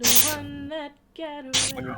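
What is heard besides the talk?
sneeze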